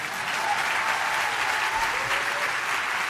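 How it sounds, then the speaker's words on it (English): A large audience at an opening-night event on activism claps steadily throughout, a dense, even wash of applause with no voices over it. "Yeah, we can clap for her."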